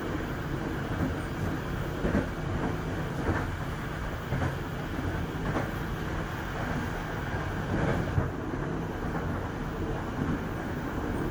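A continuous, steady rumble of a passenger train rolling along the track toward the Notog tunnel at Kebasen, heard from inside a carriage, with faint rhythmic rail clatter beneath a constant mechanical roar.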